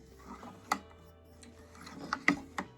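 A button maker press swivels and is pressed down, giving quiet mechanical clicks and ratcheting clacks, one sharp click early and a cluster of louder clacks near the end, with no talk.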